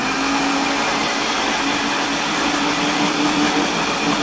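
A blender whirs loudly and continuously with a steady motorized drone and a faint high whine, no voices over it.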